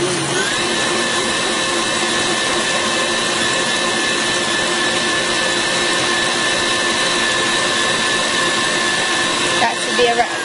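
Continuous loud whir of an electric mixer beating chocolate chip cookie dough, a steady motor drone held close throughout with a brief change near the end.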